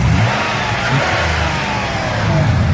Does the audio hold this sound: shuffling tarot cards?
no